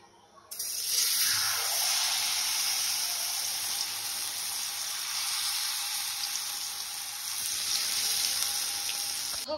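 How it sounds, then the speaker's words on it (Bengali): In a village kitchen, hot oil with a little water in it sizzles and sputters. A bright, steady hiss starts abruptly after a brief quiet moment and continues loudly and evenly throughout. "দেখো তেলে একটুখানি জল ছিল, কেমন ফুটছে। তো চলো এদিকে তেলটাও গরম হয়ে গেছে"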